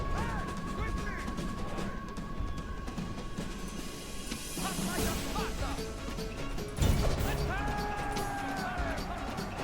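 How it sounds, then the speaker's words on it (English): Missiles loosed in a Rome: Total War battle involving Spartan hoplites and Velites: dense bursts of crashing, cracking impacts over continuous battle din, with tonal game music running throughout and a louder thud near the end. "So some missiles being fired."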